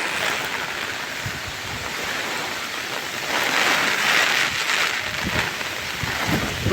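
Heavy rain and strong wind lash down during Cyclone Remal in Savar, a dense, loud, unbroken roar of pouring water and gusting air that swells slightly midway.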